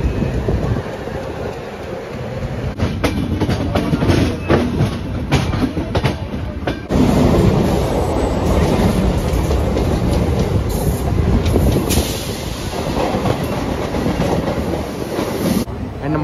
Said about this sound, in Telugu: మన ట్రైన్కి అయితే సిగ్నల్ అయితే ఇస్తారు. ఇప్పుడే స్టార్ట్ అయితే అయిపోయింది.